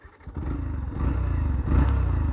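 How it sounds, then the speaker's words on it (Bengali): A Yamaha FZ-S FI V4 150 cc motorcycle starts up. A short clatter comes first, then the engine catches and settles into a close, steady, throbbing idle that grows slightly louder. "তো চলো আমরা স্টার্ট করি বাইকটা।"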